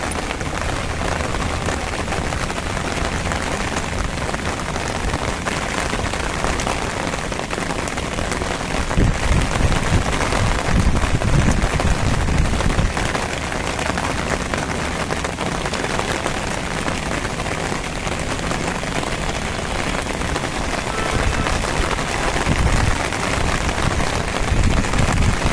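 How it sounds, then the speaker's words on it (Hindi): Heavy rain pours steadily on surfaces in a rooftop setting, a dense, loud, unbroken hiss that continues throughout with slight surges and no talking. "आज इतनी बारिश हो रही है, इतनी बारिश हो रही है"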